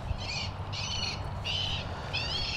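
A recorded bird-scaring call plays over a speaker at a berry farm: four evenly spaced, harsh crow-like caws ring out clearly above a low, constant ambient rumble.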